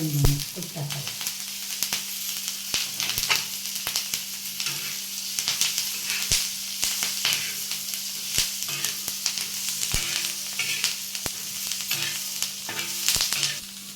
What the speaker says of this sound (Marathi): मिरची टाकली मिरची चांगली वाजली